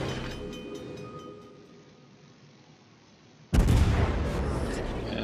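Warship guns firing armour-piercing shells in a naval video game: a low rumbling backdrop gives way to a single sudden heavy boom that rolls on as a dense roar.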